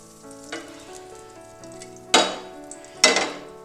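Ghee sizzling on a hot tawa griddle while making bread omelette, a steady crackle with a few sharp bursts of hiss as it hits the pan, quiet and close with no talk.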